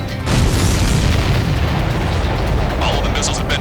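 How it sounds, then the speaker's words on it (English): Missiles are destroyed in a dense run of explosions in the Ace Combat 7 video game, giving a loud, sustained booming rumble with heavy low-end blasts rolling together. "All of the missiles have been destroyed."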